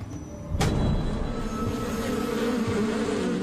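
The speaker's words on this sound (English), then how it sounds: "The bees stay around the head." Bees buzz around a head in a dense, close, continuous drone, with one sharp knock near the start.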